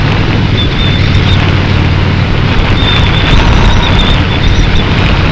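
A Honda Shadow RS motorcycle cruises around town with a steady, loud engine rumble, heavy wind buffeting the microphone over it throughout.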